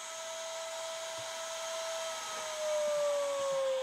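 An FLSun T1 3D printer powers up with a steady vacuum-like whir that holds level and rises slightly in pitch near the end, close and alone without voices.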